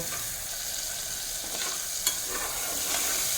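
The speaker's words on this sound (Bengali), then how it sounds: "লো করে দিয়ে মশলাটাকে একটু টমেটোর যে জলটা বেরোবে এই জলের সঙ্গেই কষিয়ে নেব" Spices and tomatoes for chal kumro chicken being sautéed in their own juices on a low flame: a soft, steady sizzle with faint stirring scrapes, no voices.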